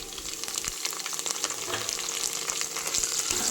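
Soya chunks fry in a pan for a pulao, giving a steady close sizzle with occasional stirring clicks and scrapes, alone and fairly soft.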